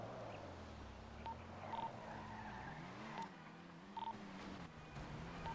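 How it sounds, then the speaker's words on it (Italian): A car pulls up, its low engine hum rising and falling faintly at a distance over quiet background noise, with a few short high beeps. "Arriva un'altra macchina."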